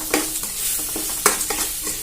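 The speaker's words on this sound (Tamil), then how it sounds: "இது நல்லா வதக்கிக்கோங்க." Potato curry with plenty of chili powder sautéed and stirred in a pan, with a steady sizzle of frying broken by repeated scraping stir strokes, close and fairly loud, no talking.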